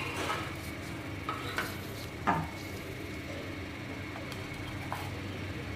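Kitchen utensil scrapes and light clinks as an oats omelette is lifted from a pan onto a plate, a few soft scraping strokes and one louder clatter over a faint steady hum.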